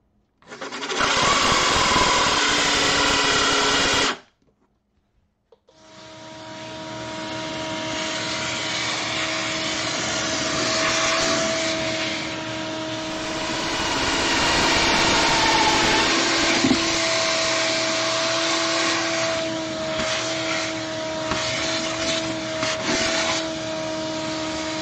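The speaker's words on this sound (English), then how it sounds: "This is going to let me know exactly where I want to drill out the hole for the drain plug." A drill bores a hole into a plastic ice chest cooler for a drain plug: a loud whirring burst for about four seconds, a short pause, then a longer, steadier drilling whine that rises and falls.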